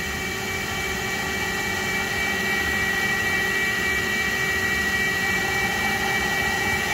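A carbide end mill cuts dry, without coolant, into a hardened-steel BMW crown wheel, producing a loud, steady, tonal machine whine with layered ringing harmonics. It drones continuously at close range without pause.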